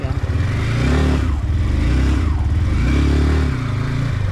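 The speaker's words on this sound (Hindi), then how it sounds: "बाइक में सर्विस होने के बाद बहुत स्मूथ चल रही है अभी" A Yamaha R15M motorcycle engine runs just after a service, with a steady, loud, close idle and rise-and-fall revving throughout and no talk over it.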